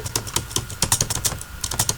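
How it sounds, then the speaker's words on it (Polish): Rapid clattering keystrokes on a new, loud computer keyboard, a dense run of sharp clicks in an irregular rhythm, close and prominent with no talking. "Możecie słyszeć, jak mi wali klawiatura, dlatego że e, mam nową."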